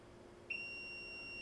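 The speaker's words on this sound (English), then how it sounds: "It's setting every f***ing alarm off in here." A smoke alarm sounds indoors, its high steady electronic tone starting abruptly partway in and holding on at a faint, distant level with no talk.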